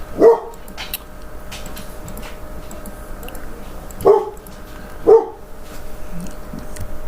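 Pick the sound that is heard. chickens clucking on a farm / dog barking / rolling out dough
dog barking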